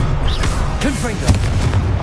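A Confringo blasting spell in Hogwarts Legacy erupts as a loud, dull boom over a dense, rumbling game soundscape, with one brief punchy burst standing out midway.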